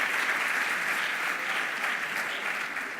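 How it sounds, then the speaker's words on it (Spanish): Audience applause at a UX design talk on prototyping with real data, a steady dense wash of many hands clapping throughout, fairly distant and even with no voices on top. "por favor, un aplauso para ellos"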